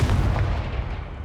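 Confringo fire spell from Hogwarts Legacy, a single deep, loud, rumbling blast that fills the short moment and slowly fades, with no voices over it.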